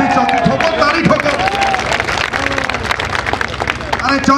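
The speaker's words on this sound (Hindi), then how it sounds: "ठोको ताली ठोको" An audience at a political rally claps and cheers in a dense, continuous burst of applause, close and loud, with crowd babble and a speaker's voice mixed in over the clapping.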